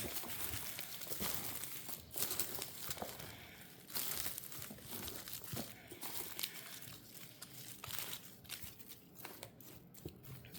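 Crumbled wood rot being stirred by hand into isopod bin substrate, giving faint, close, continuous crinkling and rustling with irregular scratchy bursts.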